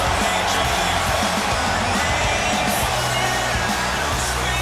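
A stadium crowd cheers and roars for Asuka at a WWE 2K Raw wrestling show, a dense, steady wall of noise lasting throughout.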